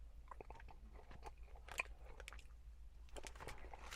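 Quiet close-up crunching and chewing of a barbecue sandwich with plain barbecue meat and no pickle, soft irregular bites and mouth sounds, no talk.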